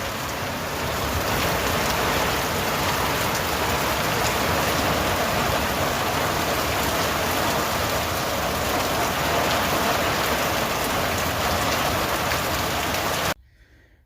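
Steady, heavy rain pattering on surfaces, a loud continuous hiss that cuts off abruptly at the end.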